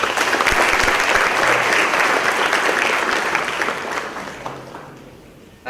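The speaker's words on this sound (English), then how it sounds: "give him a big applause for him" Audience at a meditation workshop inaugural session applauds the chief guest, a dense, loud burst of many clapping hands that holds steady, then thins and fades toward the end.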